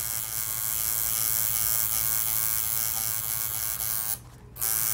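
A tattoo machine fitted with a small needle shading a portrait, giving a steady close electric buzz that drops out briefly near the end and then resumes.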